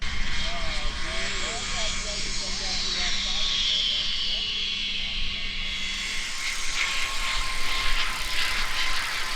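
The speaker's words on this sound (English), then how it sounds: "The zip line you can hear as they go down, it sounds like an engine, like a jet engine going by." A zip line rider races down from a mountain top in Utah, the trolley producing a loud, sustained roaring whoosh like a passing jet engine that swells and fades over several seconds.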